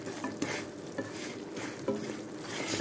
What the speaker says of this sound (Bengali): ভালো করে নাড়াচাড়া করলাম চিনিটা গলা অবধি